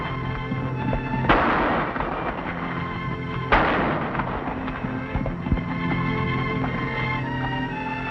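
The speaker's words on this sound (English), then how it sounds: "That's pretty good shooting, Pancho." Two sharp gunshots crack out a couple of seconds apart, each followed by a short decaying echo, over a steady background hum with no speech.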